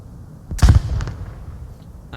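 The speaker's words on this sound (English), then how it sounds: "Out goes a flashbang." A flashbang grenade goes off in the VR shooter Onward, one sharp close bang followed by a short ringing tail and low rumble, with no talk.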